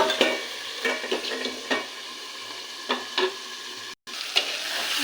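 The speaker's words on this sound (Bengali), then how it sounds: "এই তেলেই ভাজা ভাজা হবে মাছের ডিমটাকে" Fish roe fries in hot oil in a covered pan, giving a steady crackling sizzle broken by several sharp spatter pops and a brief gap near the end, with no talking.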